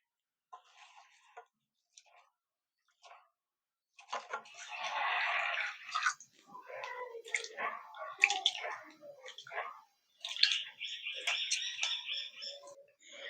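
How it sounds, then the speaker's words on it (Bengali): Small sago pearls rinsed in a bowl of water, faint intermittent swishing and wet squelching as the pearls are stirred and rubbed by hand, close and quiet with pauses between strokes. "জল দিয়ে সাবুদানাটা দুই তিনবারের মতন একটু ধুয়ে নেব"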